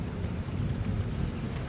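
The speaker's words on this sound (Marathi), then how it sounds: "तुम्हाला आभाळ गरजलेलं ऐकू येत असेल" A deep, steady low rumble like distant thunder rolls continuously, with a faint hiss of rain over it and no voices.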